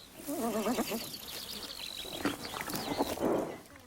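Konik ponies whinny and nicker nearby, a wavering high neigh followed by shorter snorts and soft calls, with faint outdoor noise around them in the Fens.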